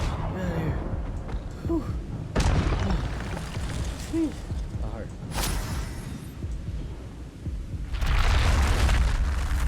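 Spells cast in the Hogwarts Legacy video game, a fire spell and a disarming spell, burst as sharp booming blasts and crackling pops over a steady game soundscape, with a voice calling out between them.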